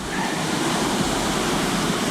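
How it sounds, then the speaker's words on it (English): Creek water pouring over a road creek crossing in Texas, a loud continuous broadband rush of flowing water with no pauses and no voices. "It's definitely got too much water going over the creek crossing"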